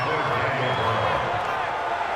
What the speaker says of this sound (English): You can already start to hear this crowd. They're saying, go for it.